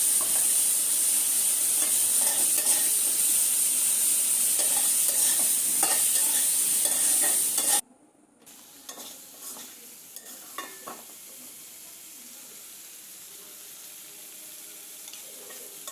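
Curry sizzles loudly as it is stir-fried with chilli powder and spices in a pan, with a steady frying hiss and occasional spatula scrapes. The sizzle cuts off abruptly halfway, leaving quieter clinks and stirring.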